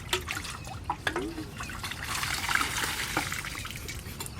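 Water being strained off small live fish in a container, soft trickling and dribbling close by, fairly quiet and uneven, with faint splashes.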